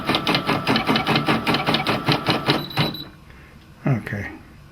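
Brother PE770 embroidery machine carriage moving, a fast rhythmic mechanical whirring and ticking that runs steadily for about three seconds and then stops, followed by a quiet stretch with a brief voice.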